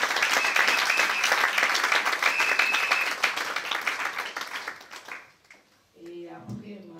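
Audience applause and cheering at a Paris gala evening, a dense steady roar of many hands clapping that fades out near the end before a brief voice comes in.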